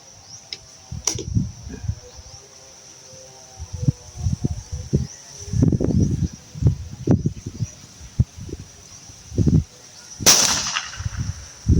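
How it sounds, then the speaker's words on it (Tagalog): A series of sharp, dry pops from an untuned, unregulated air rifle fired repeatedly at irregular intervals during a barrel test, fairly close, against a quiet outdoor background with insect hum. "Dami na rin putok ah"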